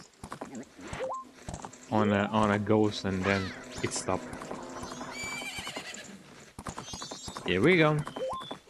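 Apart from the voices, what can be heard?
horse Epona trotting in video game Majora's Mask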